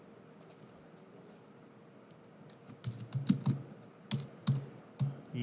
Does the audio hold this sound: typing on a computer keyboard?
yes